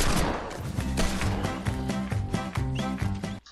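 Loud gunfire in the Fortnite video game, with rapid bursts of shots packed closely together, one after another, for a few seconds before they cut off abruptly.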